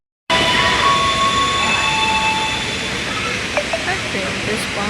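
A train runs at a crowded railway station, a steady, loud rumble with sustained tonal squeals from wheels or brakes across the whole stretch and a few faint clanks near the end.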